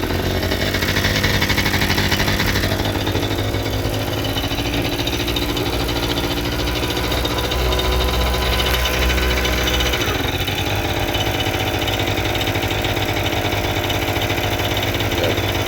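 A Yamaha Towny moped engine runs steadily at idle outdoors in cold weather, a loud, close, continuous buzzing drone with slight variations in pitch and no talking.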